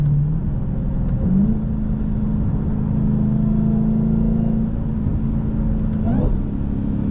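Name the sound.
car engine revving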